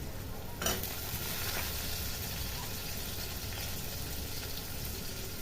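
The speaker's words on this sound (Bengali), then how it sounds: "আলু বেগুন আমি একসাথেই ভেজে ফেলবো" Potatoes and eggplant fry together in a pan with a steady, close sizzle and faint stirring scrapes throughout, no voices.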